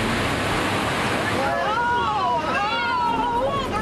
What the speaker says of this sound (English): The surging water quickly erodes the soft soil along the banks